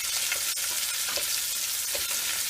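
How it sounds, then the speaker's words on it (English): Onions and garlic frying in a pan for tomato pasta sauce, stirred with a utensil: continuous close sizzle with a few light scrapes and knocks as they are moved around. "Give that a stir."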